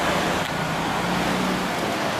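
Steady, close roar of London street traffic, with cars rolling past in a continuous broadband wash and no distinct single engine standing out.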